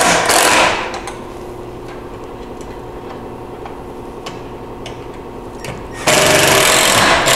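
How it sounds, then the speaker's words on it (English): An impact driver with a P3 Phillips bit tightens a windshield bracket on a Kawasaki Mule Pro FXT, with a loud hammering burst at the start, a quieter rattling stretch, then another loud burst near the end. "Now we'll take our 7/16 wrench and our impact using our P3 Phillips bit,"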